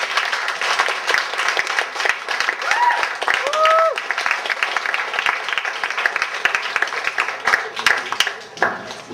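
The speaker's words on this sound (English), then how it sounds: "Another round of applause, ladies and gentlemen." An audience applauds in bursts of clapping that swell and fade unevenly, with a few whoops rising over the claps before they thin out.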